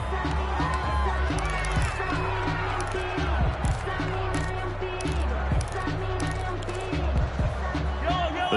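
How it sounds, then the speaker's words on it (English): Stadium crowd at an American football game against the Chiefs, a dense roar of many voices with rising cheers and shouts, continuous throughout, with a commentator speaking over it. "The crowd may be losing just a little bit of the edge after back-to-back punts"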